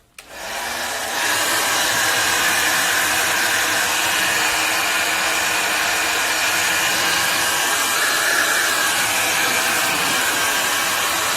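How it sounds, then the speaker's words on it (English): A handheld blow dryer drying paint on a live canvas painting runs steadily and loudly for about ten seconds after a brief start, a close, constant broadband whoosh with no talking over it. "the blow dryer."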